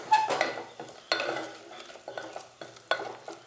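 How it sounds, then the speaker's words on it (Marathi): Tomato puree being stirred into chicken gravy in a cooker, a few wet scraping strokes of a spoon with soft sizzling between, close and fairly quiet. "Mix tomato puree with it."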